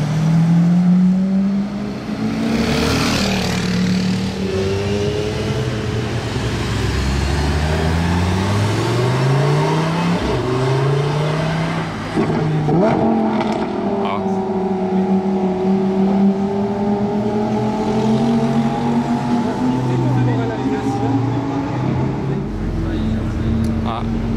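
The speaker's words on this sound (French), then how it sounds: "La Ferrari monte là-bas, il va y avoir la Chiron normalement derrière." A LaFerrari supercar accelerates at night with a loud, rising engine roar that climbs through several gears, close and sustained. Other car noise and people talking sit underneath.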